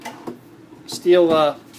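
A pull-out drawer built on steel ball bearings with a plywood box and solid wood front slides open once, giving a brief, close rolling glide with no talk over it.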